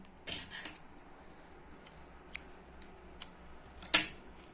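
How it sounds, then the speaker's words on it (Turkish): Scissors snip through the yarn cord at the end of a crocheted coaster border: a few faint, quiet snips spaced apart, ending in one sharper, brighter cut near the close. "Kesiyorum ve bu ipimi"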